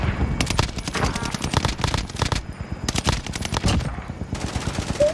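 Rapid automatic gunfire from the Call of Duty video game rattles in several loud bursts separated by short gaps, fairly close and with no talking.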